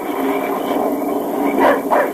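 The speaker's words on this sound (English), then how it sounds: "Keep that dog quiet." A dog on a boat or shore during a gathering storm gives a couple of quick yips or barks near the end, over a steady background rush of wind and water.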